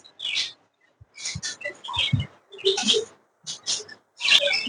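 Pet bird with one paralysed leg giving a run of short, high chirps and tweets in close bursts, separated by brief silences, with faint soft scuffling underneath.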